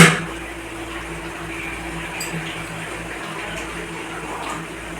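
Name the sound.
water being poured into a pot of cooking meat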